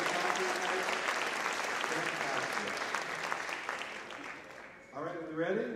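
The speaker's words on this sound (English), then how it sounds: "let's have a round of applause for all of our musicians and staff" An audience at a high school combined bands holiday concert claps in a sustained wave of applause that fades after about five seconds, when a voice begins speaking in the hall.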